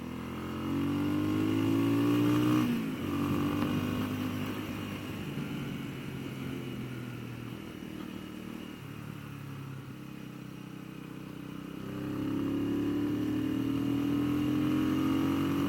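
Engine of a Genuine G400C motorcycle roars steadily while riding, rising and falling in pitch with throttle changes and swelling louder again toward the end, with no talk over it.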